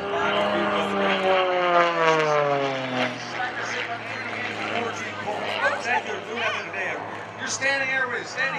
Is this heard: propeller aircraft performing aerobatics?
yes